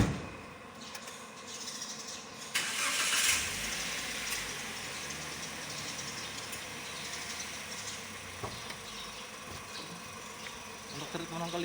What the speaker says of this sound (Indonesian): Kita nyalakan kembali mesinnya untuk treatment yang kelima.